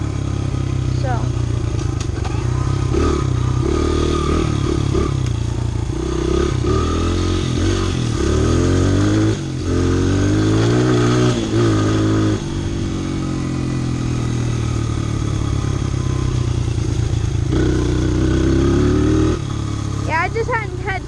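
A Honda CRF100 mini bike engine runs under a rider, loud and near with shifting pitch as it speeds up and slows, while someone talks over the wind and motor throughout.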